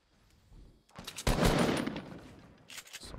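Sniper fire in the video game Fortnite, a sharp burst of gunshots erupting near the middle and fading off, with a smaller crackle near the end, no talking.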